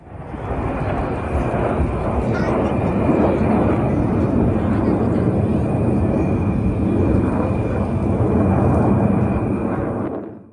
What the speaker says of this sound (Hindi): यहाँ वायुसेना के जांबाज सूर्य किरण एरोबेटिक टीम ने हैरत अंगेज हवाई करतब प्रदर्शित किए।